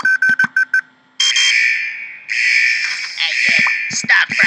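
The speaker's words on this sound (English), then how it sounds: "Looks like he set off some sort of alarm" Alarm blaring in the Henry Stickmin video game: a few short beeps, then a loud, sustained electronic siren-like tone that carries on to the end, with a brief voice partway through.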